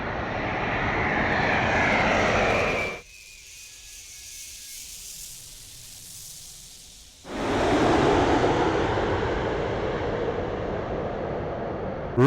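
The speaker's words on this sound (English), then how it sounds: "next plane is coming from Tokyo, from Japan, so let's get a shot of that" A jet airliner arriving from Tokyo roars loudly overhead at Heathrow, a steady, powerful engine rush that drops away for a few seconds before surging back, heard alone without talk.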